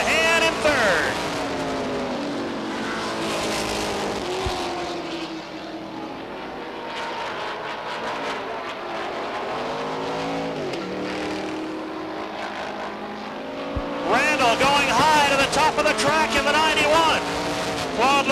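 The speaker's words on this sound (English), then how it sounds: "Bob Randall in car number 91 in the final qualified position as they hit turn number 3" Stock cars racing at Beech Ridge Motor Speedway in a 1989 ACT event, their engines droning steadily and swelling as cars pass close, then louder again near the end, with a race announcer talking over the roar.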